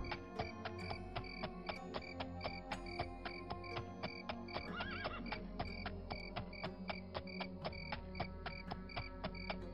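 A horse in Daggerfall Unity clops along in steady, even hoofbeats throughout, with a brief whinny breaking in near the middle.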